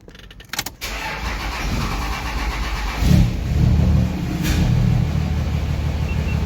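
A hotshot truck built toward 600 hp, with a built valvetrain and head studs, cranks briefly and catches, then settles into a loud, close engine rumble that swells with a rev and holds.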